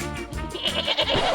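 Several goats bleat loudly and close by, their overlapping calls rising and falling as they race to eat leaves hung up in a shared pen.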